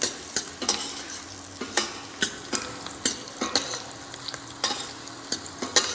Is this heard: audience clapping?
no